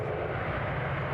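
A Cessna Citation XL business jet roars steadily at an airport, a brief, loud, unbroken engine rumble.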